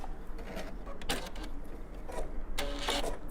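A sewing machine backstitches quilt strips in short, close bursts of rapid mechanical whirring, separated by brief pauses.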